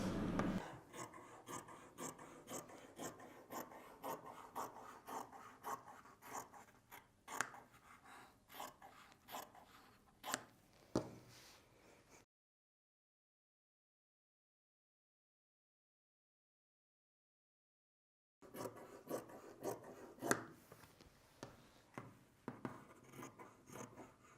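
Scissors snip repeatedly through fabric while eight set-in gores are cut for a dress, the steady close cutting broken by a silent gap in the middle before the snipping resumes.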